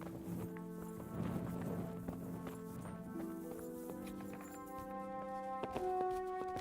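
Horse hooves clip-clop at a walk in Kingdom Come: Deliverance, a steady rhythmic patter under sustained game music, moderately loud throughout.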